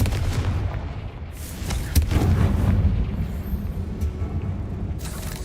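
A Confringo fire spell detonating in Hogwarts Legacy: a loud booming explosion with a sharp crack at the start, then a heavy sustained rumble that rolls on alone for several seconds.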